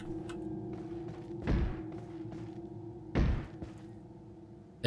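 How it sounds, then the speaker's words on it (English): Two heavy, muffled thuds like someone banging on a wooden door, spaced well apart over a steady low hum in the Resident Evil 4 game world, with no talk. "Is that somebody banging on a door by any chance?"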